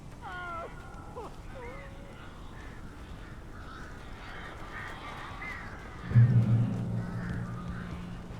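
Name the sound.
birds cawing in the video game Alan Wake Remastered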